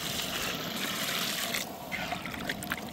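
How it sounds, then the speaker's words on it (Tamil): Water is poured into a pot of mutton curry for thani kulambu, a continuous close trickling and splashing stream that stays steady, with slight changes in flow near the end. "கறி வேகிறதுக்கு நல்லா தண்ணி ஊற்றிக்கிறோம்."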